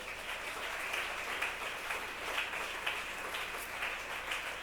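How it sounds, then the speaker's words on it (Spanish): A church congregation applauds during a service, a dense, continuous wash of clapping heard at moderate distance, steady in level with slight surges throughout. "Dele fuerte el aplauso al Señor"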